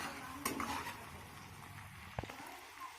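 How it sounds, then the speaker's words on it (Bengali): Chopped onion fries lightly in a pan, a faint, steady sizzle with occasional soft stirring scrapes and a utensil tap, heard alone without talk. "এই পেঁয়াজটাকে আমি হালকা করে ভেজে নেব, যাতে পেঁয়াজের গা থেকে কাঁচা গন্ধটা বাইরে বেরিয়ে আসে।"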